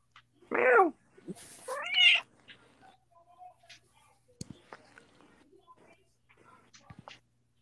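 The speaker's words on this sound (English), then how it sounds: "Meow." A cat gives two clear, drawn-out meows near the start, close and fairly loud, followed by quieter scattered rustles and small clicks.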